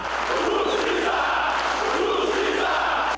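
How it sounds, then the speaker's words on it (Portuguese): Loud crowd of taxi drivers protesting inside a packed city council chamber, a dense continuous roar of shouting and jeering voices that holds steady throughout. "Os taxistas lotaram o plenário da Câmara e protestaram o tempo todo."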